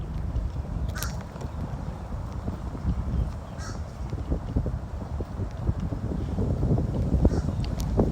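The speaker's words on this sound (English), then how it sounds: "The wind is amazing." Wind gusting across an outdoor nature trail, a low rumbling buffet on the microphone that builds toward the end, with faint bird calls in the distance.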